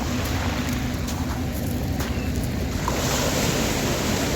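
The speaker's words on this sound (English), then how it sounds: "See the waves rolling in" Waves wash onto a Little Bay beach in Gibraltar in a constant broad roar of surf, mixed with wind buffeting the microphone; no talking.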